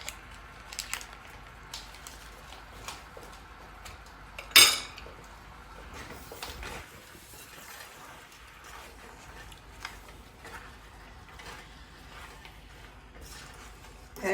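A spoon stirs butter into sugar in a pan for apple pie, making soft scrapes and light clinks with one sharper clank partway through. A person talks quietly over it.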